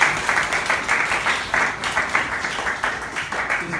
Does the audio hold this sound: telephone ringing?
no